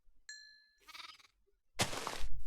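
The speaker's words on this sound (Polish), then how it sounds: "tu jest kolejna owca" Sheep bleat in a Minecraft-style video game, two or three short wavering bleats separated by brief silences, the last one louder and fuller, heard alone without talk.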